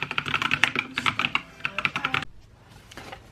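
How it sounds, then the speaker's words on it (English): Rapid, close clicking of keys on a computer keyboard in uneven bursts for about two seconds, then stopping, leaving a quiet room with faint handling sounds. "I'm just gonna kind of type through that"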